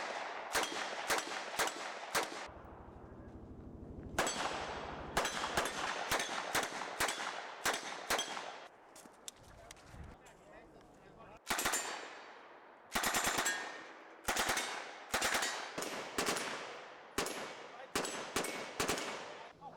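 Gunshots at a shooting range during a timed course, loud and close, fired in quick rapid strings and clusters of sharp cracks with brief pauses between bursts.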